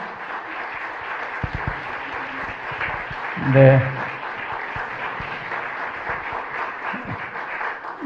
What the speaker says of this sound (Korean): 다시 한번 인사할 때 크게 박수합시다.